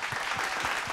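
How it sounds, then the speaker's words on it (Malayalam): A brief burst of studio audience clapping for the team on a music show, dense and steady, with a few soft low thuds underneath. "ഞങ്ങളുടെ മണിമേളത്തിൻ്റെ എല്ലാ ടീം അംഗങ്ങളുടെയും അടിപൊളി ഒരു കയ്യടി കൊടുക്കാം"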